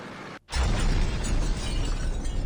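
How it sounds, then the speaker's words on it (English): After a brief silence, a sudden loud video game explosion sound effect erupts into a sustained, crunchy roar of noise that continues to the end. "It gives you the explosion sound effect"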